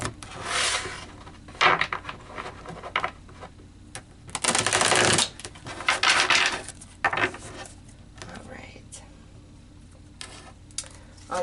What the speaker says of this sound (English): I feel like I need to do a shuffle.